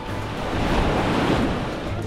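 Sea waves break steadily on the coast in a continuous loud surf roar, with some wind noise on the microphone and no voices.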